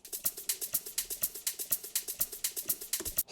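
A dry-then-widened shaker in an Afro House groove, with reverb added, shuffles in a fast, steady pattern of bright, airy hits. Faint low thumps sit beneath it, and no one speaks.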